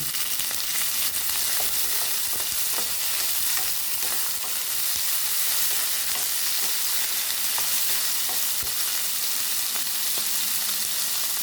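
Boiled chicken sautéing with onion and garlic in a pan gives a loud, continuous frying hiss, punctuated by faint utensil scrapes and stirring clicks, with no one talking.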